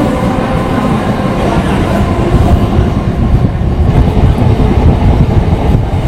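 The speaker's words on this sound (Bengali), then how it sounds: "এটা হচ্ছে খড়গপুর হাওড়া লোকাল" A Kharagpur–Howrah local train pulls into Panskura railway station, a loud, close, continuous rumble of wheels and carriages rolling along the track.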